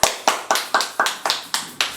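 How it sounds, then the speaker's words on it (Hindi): Sharp hand claps in a Maithili comedy wedding skit, eight crisp, evenly spaced claps about a quarter second apart, close and dry with nothing else sounding between them. "ताली मार"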